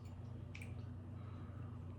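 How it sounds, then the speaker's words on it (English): Milk pours into a shot glass carved from a frozen pickle, giving a quiet, brief wet splash and squish over a steady low hum, with no talking. "So I'll pour, oh, this is gonna make a mess."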